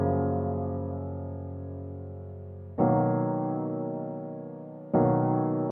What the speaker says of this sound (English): Then on top of that, I laid down a piano.